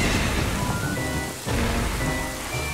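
Steady rain hiss from the video game Ocarina of Time, a dense continuous wash of falling rain that dips briefly midway before resuming at full strength, with no talk over it.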